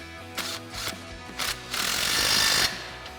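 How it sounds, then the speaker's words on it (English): A flag nut on a Jeep Wrangler JK is tightened with a 21mm socket during a suspension lift install: a few short mechanical bursts, then one sustained, loud buzzing run close by, with no talking. "Once that catches, go ahead and tighten that down again with our 21mm socket."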